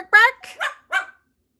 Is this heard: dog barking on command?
yes